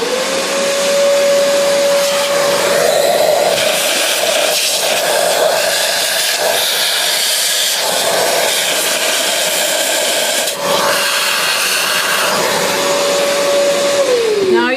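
A vacuum cleaner runs continuously and loud, sucking coffee grounds out of the clumped chute of a Macap M4 coffee grinder, with a steady whine rising at the start and falling away as it switches off.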